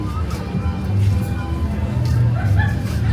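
Dogs yapping and barking amid the crowd at the Belfast Christmas Market, several short, fairly close yips and barks over a busy murmur of people.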